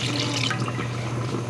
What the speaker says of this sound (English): now I'm going to be pouring the half and half